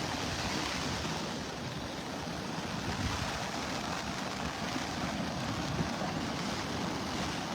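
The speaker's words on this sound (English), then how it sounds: "Breezy out here, a lot breezier than yesterday morning, a lot rougher." Strong wind roars with rough surf crashing on a beach in North Naples, Florida, a steady, loud, broadband wash with no pauses.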